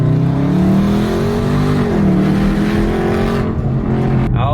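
A Dodge Charger Scat Pack Widebody with a mid-muffler delete exhaust revs loud and close, a deep sustained rumble whose pitch rises and dips over several seconds without pause.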